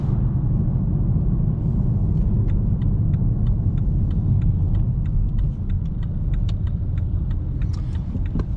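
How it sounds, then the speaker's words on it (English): A BMW F30 316d diesel engine hums steadily from inside the car while driving, a low, even rumble with faint ticking above it and no talking. "you can hear how quiet it is, you can hear the engine"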